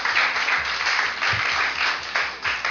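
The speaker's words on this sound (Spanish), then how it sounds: "Bendecile con un fuerte aplauso a Dios si le estás creyendo." A church congregation claps in applause to God, a steady, fairly loud wash of many hands with faint low thumps beneath, continuing throughout.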